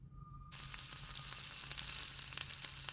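Mustard seeds hitting hot oil in a pan burst into a sudden close sizzle after a brief quiet moment, then keep up a steady crackling fry with scattered small pops.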